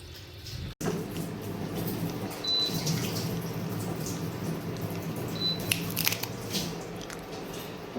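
Water runs into a cooking pot, measured out to make ragi papad dough, as a steady close splashing flow with a few small clinks and a brief gap at the start.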